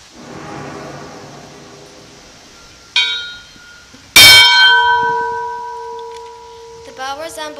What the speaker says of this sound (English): The bell resembles the time of 10:28.